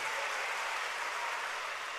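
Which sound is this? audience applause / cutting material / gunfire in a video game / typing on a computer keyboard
audience applause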